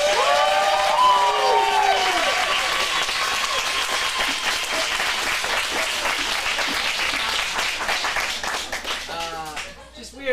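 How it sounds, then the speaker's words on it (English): Loud, sustained audience applause and some cheering for teen students at an acting studio script showcase, dense clapping continuing throughout, with voices over the start and near the end. "Give another big round of applause for all the students"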